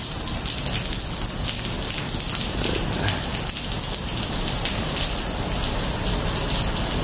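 Steady rain falls continuously, a dense close hiss of drops on surfaces with no pauses and no voices.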